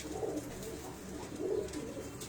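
Pigeons, including a Teddy pigeon at a Faisalabad breeder's loft, coo in soft low rolling calls that rise twice over a steady background, close by with no talk.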